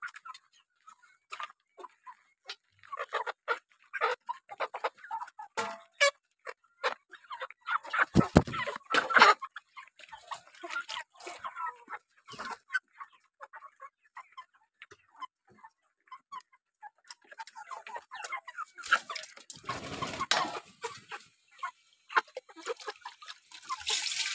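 A flock of chickens clucks in a dense, uneven chorus of overlapping calls, close and fairly loud, with busier bursts scattered through and no voices.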